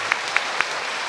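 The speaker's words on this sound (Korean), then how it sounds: "축하하는 뜻으로 큰 박수로 환영합시다." A church congregation claps steadily in dense, continuous applause at a Catholic confirmation ceremony, a few sharper claps standing out.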